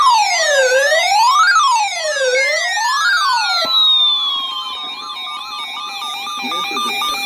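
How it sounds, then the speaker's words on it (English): Weather radio warning alarm tone for a weekly emergency alert test, a loud sweeping wail that rises and falls repeatedly before settling into a steady, slightly falling tone, heard alone with no talk. "specially built radios are automatically activated by this tone to warn you of impending weather hazards"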